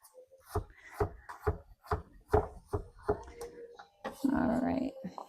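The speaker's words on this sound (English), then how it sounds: "I'm going to just chop my potatoes up" A knife chopping potatoes on a cutting board in a home kitchen, sharp regular knocks roughly twice a second, close and fairly quiet, followed by a brief rustling clatter near the end.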